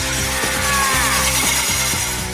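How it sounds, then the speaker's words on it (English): Power drill boring into a pane of glass, a loud steady grinding whine with rhythmic catches roughly every half second, close and continuous with no talk. "their final effort using a drill is a rather odd idea"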